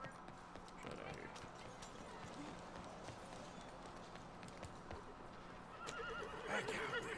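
A horse in the Red Dead Redemption 2 video game gives a clear whinny near the end, after a stretch of soft clip-clopping hooves, with game ambience and quiet talk underneath.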